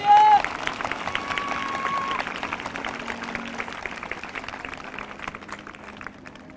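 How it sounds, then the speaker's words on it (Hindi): Applause from the congregation at a live morning prayer service welcoming newcomers, a dense burst of clapping that starts loud and gradually thins and fades over several seconds. "आइए हम सब मिलकर, या पहली बार ऑनलाइन जुड़े हैं, उनका भी हम वेलकम करते हैं तालियों के साथ"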